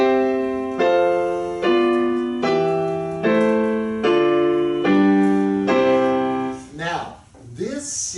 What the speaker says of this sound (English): this sequence is a sequence of descending fifths